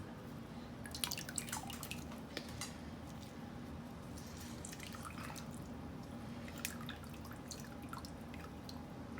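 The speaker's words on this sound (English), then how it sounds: "My last finishing touch is a half a lime. Just squeeze that in there," Half a lime squeezed into a bowl of bone broth, with faint, close drips and small splashes falling irregularly over a steady low background hiss, no talking.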